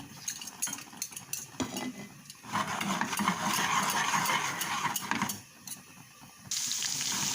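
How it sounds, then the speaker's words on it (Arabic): Okra fries in ghee in a pot while a utensil stirs and scrapes against the metal, with clinks and a louder sizzling, bubbling stretch in the middle, close and without talk. "قلبي برضو تحمر ونطش الباميه بتاعتنا"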